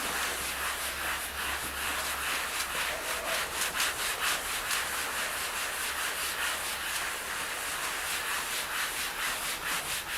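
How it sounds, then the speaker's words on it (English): Fine dust being rubbed by hand into a fabric upholstered seat, a steady close brushing and scrubbing rasp that continues without a break and without talk. "So I'm going to rub that all in, so go over the whole seat."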